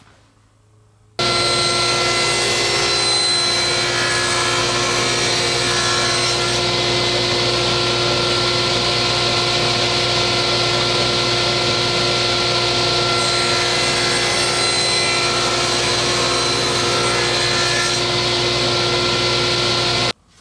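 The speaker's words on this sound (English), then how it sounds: "let's head over to the table saw, we'll set our blade, and we'll cut this saw kerf" A table saw blade cuts a narrow kerf through a wooden ruler holder for a workbench, a loud steady whine of motor and blade holding for about nineteen seconds with slight shifts in pitch as the wood feeds through, no talking.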